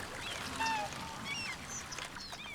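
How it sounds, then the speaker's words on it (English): Macaws in a Cities Skylines zoo honking like geese, several faint goose-like calls scattered over a soft background with no talk. "Looks like we've got macaws in there, doesn't it? Although for some reason they all sound like geese."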